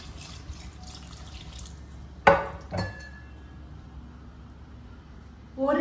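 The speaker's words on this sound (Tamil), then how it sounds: "நான் 6 கிளாஸ் தண்ணி ஊற்றுவேன்" Water is poured from a glass into a pot for brinji rice: a few short splashes and drips stand out over a quiet kitchen background, with another pour beginning at the end.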